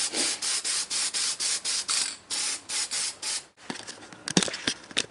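Spray sealant hisses onto a repainted Asajj Ventress figure in about a dozen short, evenly spaced bursts, close and steady, followed by a brief pause and a few softer, uneven sprays.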